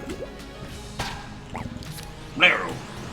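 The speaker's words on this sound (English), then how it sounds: "It like burps when you reload it." A gun in the Enter the Gungeon video game lets out a short wet burp-like sound on reloading, a brief squishy burst amid soft game noises, with a bit of talk earlier in the moment.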